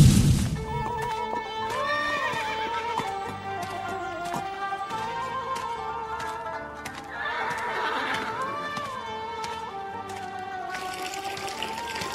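Horses neigh and whinny over a continuous musical backing, with a brief hoof clatter and some splashing of water near the start; the horse calls stand out moderately loud throughout.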